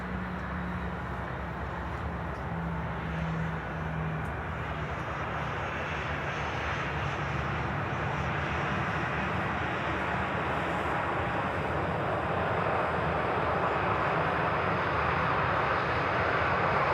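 Transavia airliner passing, a steady jet engine roar with a broad wash of noise that swells slightly over time, continuous and fairly close with no speech.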